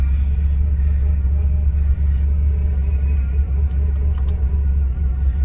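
A Cadillac DeVille, sitting unused for seven months, runs with a steady low engine rumble close by, holding an even loud drone throughout with no voices.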